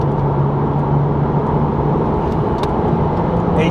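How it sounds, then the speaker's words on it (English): Porsche Cayman 987 S with its flat-six engine, heard from inside on a highway: a loud, steady engine drone with a strong low tone, holding constant across the short stretch. "these flat sixes, they're just absolutely beautiful engines"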